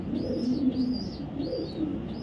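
Racer pigeons of a foreign bloodline coo close by in a repeated, rolling rhythm, several soft throaty calls following one another with faint chirps above and no talking.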